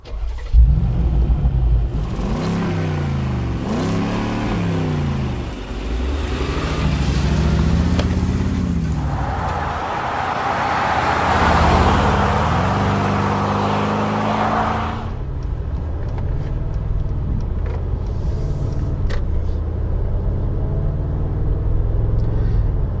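A 2019 Mercedes G500 with a V8 bi-turbo engine drives on a road in Poland, its deep engine note rising and falling through gear changes before a strong, rushing acceleration, heard steadily from inside the car.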